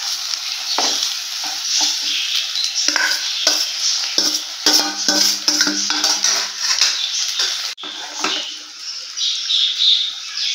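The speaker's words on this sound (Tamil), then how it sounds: "கொஞ்சமாக சேர்த்து நல்லா ஒன்றா கலந்து விட்டுக்கோங்க" Egg rice being stirred in a pan, a spoon repeatedly scraping and clinking against metal over a soft background sizzle, close and busy, with a brief pause late on.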